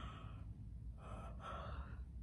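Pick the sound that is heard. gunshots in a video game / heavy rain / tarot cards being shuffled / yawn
yawn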